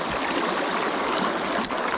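A creek flows steadily nearby, a constant broad rushing and gurgling of water, loud and even throughout with no voices.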